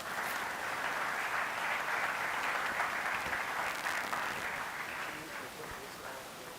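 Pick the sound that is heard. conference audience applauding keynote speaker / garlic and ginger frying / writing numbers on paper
conference audience applauding keynote speaker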